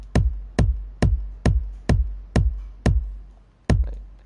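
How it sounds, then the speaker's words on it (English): Bass notes from Fortnite music blocks in a video game: eight deep, plucked-sounding tones struck at an even, slightly uneven pace, each with a sharp attack and short decaying tail, alone and close. "what we're gonna be doing next is the bass notes, the ones that sound like this"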